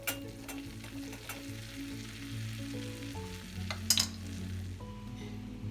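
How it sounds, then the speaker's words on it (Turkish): Butter melts with red pepper powder in a sauce pan, giving a soft continuous sizzle, with a few light clinks of utensils against the pan. "2 yemek kaşığı tereyağını sos tavasında eritiyoruz. Üzerine 1 çay kaşığı kırmızı toz biber ilave ediyoruz."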